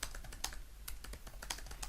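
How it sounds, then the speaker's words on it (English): Quiet, rapid typing on a computer keyboard, with irregular clusters of soft key clicks close by and no talking. "if you keep typing"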